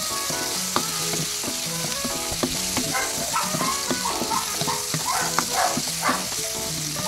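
Garlic, onion and tomato sauté in a hot pan before mashed boiled eggplant goes in. The close, steady sizzle and crackle carries through the whole stretch, broken by soft stirring knocks.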